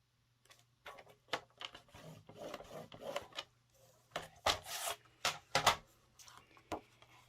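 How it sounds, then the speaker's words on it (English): Scraping and rubbing strokes of a scoring tool pressed along a half sheet of cardstock card base, a series of short irregular swipes at close range, quiet and without talk. "we're going to score that at 4 1/4"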